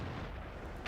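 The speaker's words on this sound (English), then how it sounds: "I never really had an opportunity to unload this cannon so much" Heavy, sustained rumbling boom from the FV4202 tank cannon in World of Tanks, a dense low-frequency roar filling the whole moment with a brighter burst at the very end, no voices.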